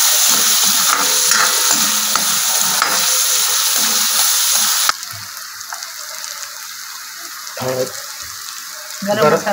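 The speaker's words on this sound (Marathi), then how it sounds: "हे बघा कढईमध्ये तेल टाकून कांदा टाकलेला आहे" Onion sizzles in hot oil in a kadai, a loud, dense frying hiss for the first half that drops abruptly to a quieter crackle with occasional stirring bursts.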